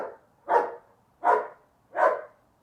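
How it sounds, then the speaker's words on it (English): Three loud, evenly spaced dog barks ring out close by, each a short full-bodied burst separated by silence, with no other sound around them. "This dog needs to be walked."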